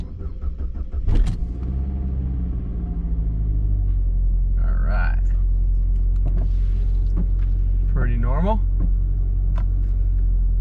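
A 200,000-mile Saab 9-5 engine cranks and catches on a cool 64-degree day, then settles into a steady low idle rumble, with someone speaking briefly over it.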